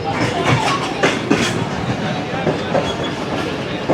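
Rail wagons clacking over the tracks at a busy Tando Adam railway crossing near Karachi, a continuous close rumble with regular rhythmic clicks throughout.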